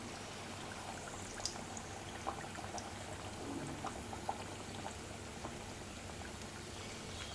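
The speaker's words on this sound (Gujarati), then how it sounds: "તેલ સરસ ગરમ થઈ ગયું છે તો આપણે એક એક વડું મૂકવાનું છે." Corn vada fritters, a Gujarati makai na wada snack, frying in hot oil, giving a steady close sizzling hiss with scattered small pops and crackles throughout, no talking.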